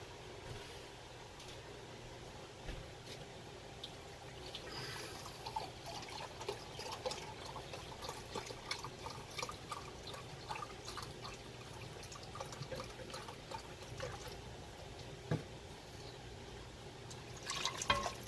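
Chicken broth is poured into a stovetop dutch oven, a soft continuous trickle and splash with scattered drips, heard fairly close at low volume without talk.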